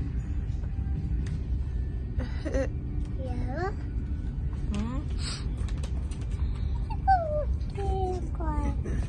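A voice mimics a small dog, with repeated short yips and whimpering calls rising and falling in pitch, fairly close and set against a steady low background hum.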